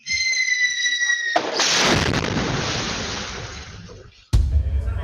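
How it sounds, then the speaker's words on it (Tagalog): Small firecrackers crackle and hiss in a loud burst that fades away, then a much louder, sharp blast follows from a bomb-like firecracker in Malolos, Bulacan. "Maririnig pa sa video na ito ang mga mahihinang paputok bago ang pinakamalakas na pagsabog."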